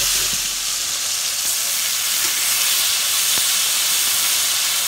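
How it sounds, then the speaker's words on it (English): Steady loud sizzling and crackling of steak frying in a hot skillet, a continuous close hiss with occasional pops. "If your pan isn't sizzling like this, your pan isn't hot enough."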